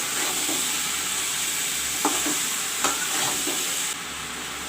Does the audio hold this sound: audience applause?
no